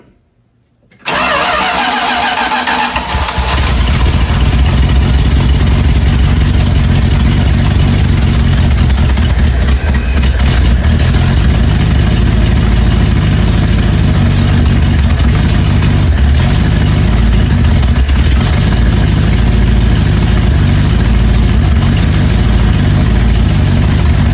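A long-neglected 1978 Dodge D150 pickup, left sitting for 20 years, cranks and fires after a second of quiet, then settles into a loud, steady idle with a constant rough drone that carries through to the end.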